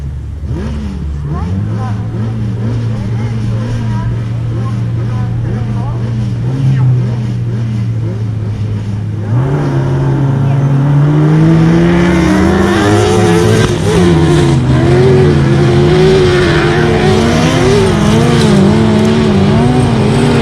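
Several autograss race cars idle with a deep engine drone, then rev up hard and pull away at the start of a race on a grass track, engines rising and overlapping with tyre noise.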